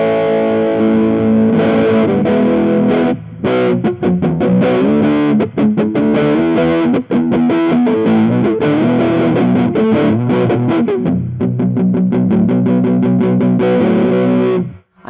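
An electric guitar plays a lead line through a Heather Brown Electronicals Sensation Fuzzdrive pedal with its bass toggle engaged, sounding loud, thick and distorted with sustained notes and quick runs, brief gaps, and no talking.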